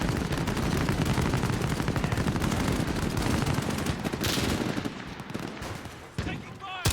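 Rapid automatic gunfire and bursts of shooting in a video game firefight, loud and continuous for several seconds before tapering off, with a voice briefly heard.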